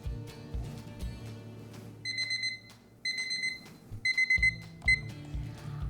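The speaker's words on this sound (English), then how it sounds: "start my timer" A kitchen timer is started while making homemade chocolate pudding. It gives several short bursts of sharp electronic beeps, quickening toward the end, over low background music and thumps.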